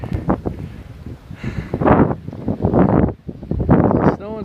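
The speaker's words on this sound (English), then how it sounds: "Super windy." Strong wind roaring through a night blizzard in Portage, Indiana in February, with sideways snow; the gusts rise and fall in loud surges across the whole stretch, mixed with a person's breathy exclamations.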